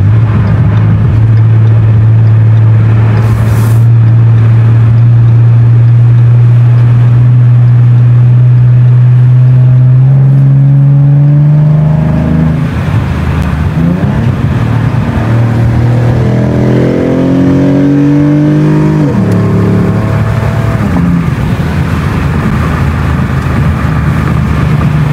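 A loud Ford Mustang engine, exhaust illegally loud, drones at a low steady idle and then revs up and down repeatedly in rising and falling sweeps, very close and powerful.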